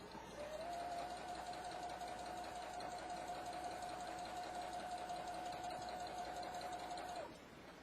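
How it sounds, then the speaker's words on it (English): A home sewing machine runs a single straight stitch with a twin needle at stitch length 3, a steady, even motor hum that holds for about six and a half seconds and then stops. "Doing just a single straight stitch, stitch length of 3."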